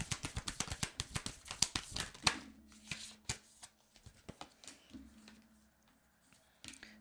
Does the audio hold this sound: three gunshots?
no